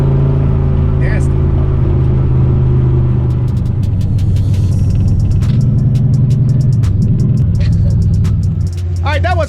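A Ford Fox Body with a GT40 turbo build idles roughly and unevenly, its low engine rumble loud and steady throughout, with speech over it.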